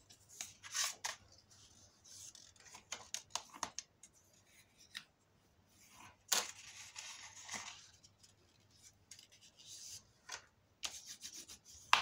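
Paper being creased into folds for a folio, quiet close rubbing and scraping strokes in short irregular bursts, with one sharper swipe midway and pauses between.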